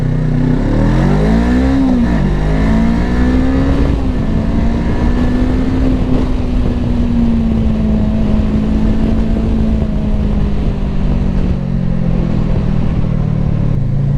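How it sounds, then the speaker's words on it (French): Voge 500DS motorcycle engine starting, a low engine tone that rises and dips as it catches, then settles into a steady close idle with a slight drift in pitch. "Je vous remets le démarrage parce que c'est très sympa ça."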